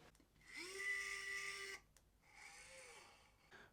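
An electric screwdriver drives screws into an aftermarket Game Boy shell, whirring in two close, steady bursts with a brief pause between.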